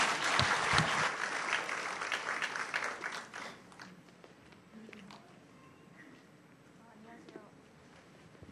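Audience applause at a church camp forum, loud dense clapping that fades after about three seconds into scattered claps, with voices murmuring underneath as it dies away.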